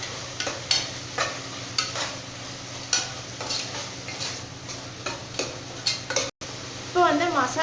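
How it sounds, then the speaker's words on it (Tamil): Onion, chopped herbs and spices being stirred and sautéed in a pan while making biryani, with regular scraping strokes of a spoon over a steady sizzle of frying and a few utensil clinks. "இப்போ இது எல்லாமே சேர்த்துட்டு நல்லா வந்து நம்ம வதக்கி விட்டுக்கலாம்."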